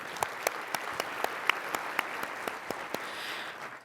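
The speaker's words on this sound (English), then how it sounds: "I want to give you a round of applause for showing up today" Sparse, scattered clapping from a small audience at a community breakfast, individual claps spaced out and fairly faint, without talk.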